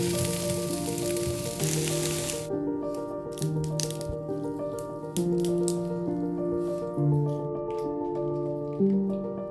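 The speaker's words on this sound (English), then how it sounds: "I'm going to just put them in a frying pan I found in this bothy." A broad sizzling hiss from a hot frying pan in a remote bothy fills the first couple of seconds, then cuts out, leaving steady tonal notes.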